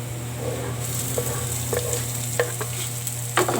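Minced garlic sautéing in a pan for beef sarciado, with a steady close sizzle, a low hum underneath and a few sharp spatula scrapes near the end.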